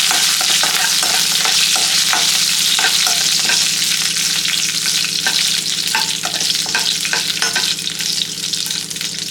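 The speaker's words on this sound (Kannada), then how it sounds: "ನಾಲ್ಕು ಬ್ಯಾಡಗೆ ಮೆಣಸಿನ್ಕಾಯಿ, ಲೋ ಫ್ಲೇಮಲ್ಲೇ ಇದನ್ನು ಹುರ್ಕೊಳ್ಳೋಣ." Four Byadgi red chillies roast in a pan over a low flame, giving a constant close sizzle broken by frequent scraping stirs.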